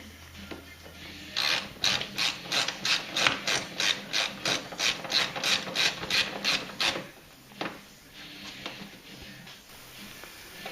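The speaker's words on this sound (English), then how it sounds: "put the torque screw back in" A ratcheting driver clicks rhythmically, about a dozen crisp close ratchet strokes in a steady run, as the torque screw is tightened back into an Airframe snowboard, followed by a few scattered mechanical clicks.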